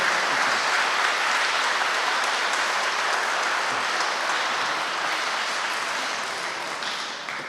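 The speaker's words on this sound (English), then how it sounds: "Could you give these students another round of applause," Sustained, even applause from a middle school spring concert audience, a dense wash of clapping that holds steady and begins to thin slightly toward the end.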